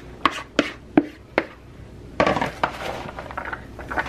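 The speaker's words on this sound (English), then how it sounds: "So I'm going to mix the potatoes with the rest of the veg." Potatoes are mixed with other vegetables in a bowl: several sharp, evenly spaced knocks of a utensil against the bowl, then a busier stretch of clinking, scraping and tumbling food, close by and with no talking.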